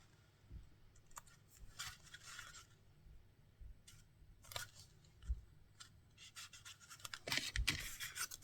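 Scissors snip through paper while making a bay window card, a series of short crisp cuts and scrapes at an uneven pace, close and fairly quiet, with no talking.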